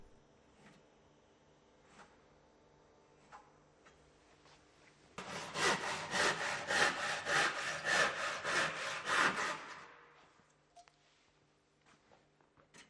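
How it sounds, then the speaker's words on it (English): Handsaw cutting away waste wood from the horns at the head of a window frame, a steady run of rhythmic back-and-forth strokes for several seconds, fairly close, with quieter workshop sounds before and after. "remove the waste material with a handsaw"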